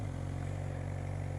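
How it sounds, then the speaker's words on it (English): Motorcycle engine idling just after being started, a steady low throbbing hum, close and even, with no talk. "Fire. The bike is running."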